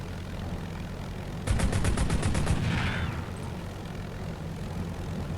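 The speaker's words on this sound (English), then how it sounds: "I'm gonna pull back on the stick and give a spurt with the machine guns." Aircraft machine-gun burst in the Crimson Skies tabletop game, a single short rapid run of about eight sharp shots, fairly loud and alone over faint background hiss.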